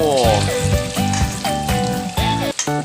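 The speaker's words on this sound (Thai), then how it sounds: "ตั้งน้ำมันร้อนใส่หมูลงไปทอดนะครับ" Pork pieces fry in hot oil with a steady, close sizzle that runs throughout, overlaid by louder melodic tones.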